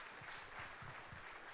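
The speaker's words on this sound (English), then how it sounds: "Let's give Mark a round of applause." Faint audience applause at a small community business gathering, a short patch of distant clapping with soft low thumps, heard quietly with no speech.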